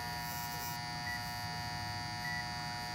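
A steady electrical buzz from a contactor in an HVAC system that runs but doesn't cool, with a constant hum, loud and unbroken throughout, with faint higher tones briefly rising over it twice.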